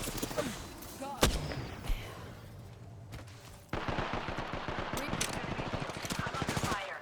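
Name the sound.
gunfire in the video game Apex Legends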